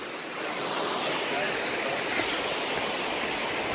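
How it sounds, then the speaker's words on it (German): Water from the river Nidder rushes and flows in a dense, continuous broadband hiss, close and steady without a break. "Ah, hier ist die, der Fluss Nidder, der auch durch die gleichnamige Stadt Nidder fließt."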